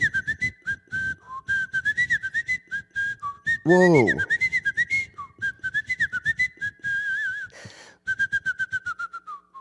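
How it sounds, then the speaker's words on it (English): Someone whistles a lively, warbling melody while smiling, with clear, close, rapid pitch glides and trills and one sharp rising-and-falling swoop in the middle. A voice briefly exclaims partway through. "I can whistle while smiling."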